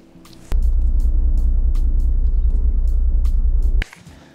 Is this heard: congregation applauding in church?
no